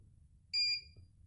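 A single short electronic beep from a power box as a coffee machine is switched on, a clear tonal blip over a faint low hum.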